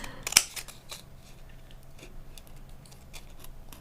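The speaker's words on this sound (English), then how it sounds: "I'm going to cut deeper because I don't want to miss that edge again" Scissors cut through material for a handmade crepe paper lavender plant, giving one sharp close snip followed by a run of quieter, faint clicks and snips over a low background hum.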